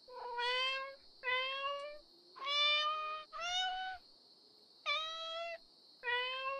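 A person imitates a cat meowing: six drawn-out, tonal meow calls in an irregular series, each clear and fairly loud, with short silences between them.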